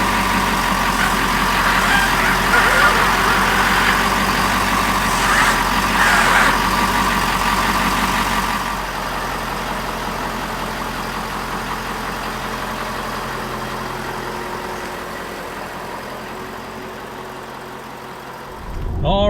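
A 2022 Ford Super Duty truck engine running steadily while driving down the road, a loud continuous low drone and road rumble that eases slightly partway through, with no talking.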